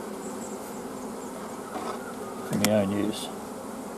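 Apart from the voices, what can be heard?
honey bees buzzing at a beehive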